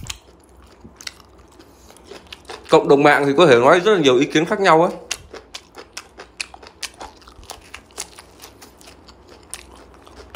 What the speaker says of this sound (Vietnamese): là mình nhai cái này á, nó cũng không có gây tiếng chóp chép quá lớn đâu các bạn